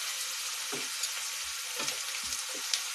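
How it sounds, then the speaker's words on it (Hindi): Onions fry for paneer angara with a constant bright sizzle in the pan. A few soft stirring scrapes and knocks cut in now and then, and no one speaks. "प्याज भुनने लगे हैं, इन्हें मैं थोड़ा सा और भुनने दूंगी प्याज को।"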